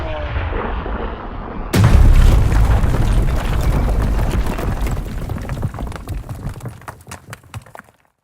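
A bomb explosion sound effect: a sudden heavy boom that erupts and then rumbles and crackles away over several seconds, with scattered debris-like pops trailing into silence.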